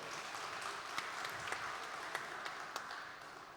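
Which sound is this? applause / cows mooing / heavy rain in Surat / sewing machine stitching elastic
applause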